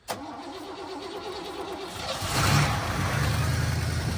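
A cold Oldsmobile Delta 88 lowrider engine cranks with rhythmic turning pulses, then catches and fires up into a rough, louder idle, recorded close with no talking.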